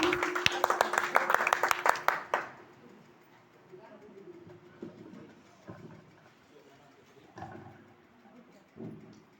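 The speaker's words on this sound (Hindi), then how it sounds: "जोरदार ताली से दीदी का स्वागत करें।" A loud burst of clapping from a women's gathering rings out for about two seconds and then stops abruptly, followed by someone speaking over quiet background noise.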